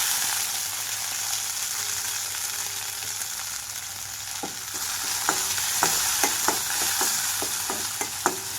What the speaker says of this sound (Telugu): ఈ తాలింపు అంతా వేగిన తర్వాత కొంచెం కొత్తిమీర వేస్తున్నాను.